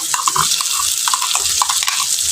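Crab sizzles in a pan while being stirred and sautéed, a steady frying hiss close up, broken by light scraping and clicking of a spatula against the pan.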